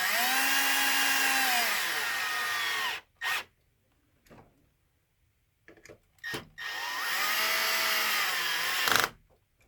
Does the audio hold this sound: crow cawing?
no